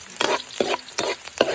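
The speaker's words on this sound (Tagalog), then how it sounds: "Ayan, halo-haloin ko lang." Onion and garlic fry in oil while a spoon stirs them, with four distinct scraping strokes at a regular rhythm over a continuous close sizzle and no voices.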